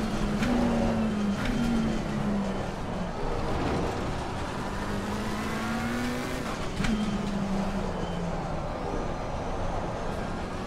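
A race car engine in the sim game Assetto Corsa Competizione drones steadily, its pitch rising and falling through gear changes and sometimes bogging down, with other cars roaring close by and no talking.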